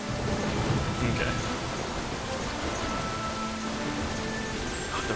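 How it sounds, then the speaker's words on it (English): Steady rain falls in Monster Hunter Frontier Z, a dense continuous hiss of downpour that stays even and loud throughout, with a voice talking over it. "Oh, the rain is so nice."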